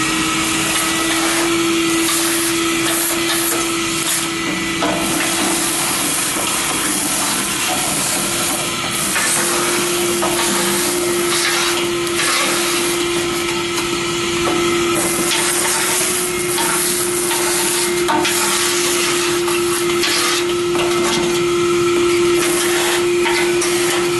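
A vacuum cleaner runs steadily, sucking ash out of a rocket stove, a loud constant whine and hiss with a strong motor hum and rattling debris throughout.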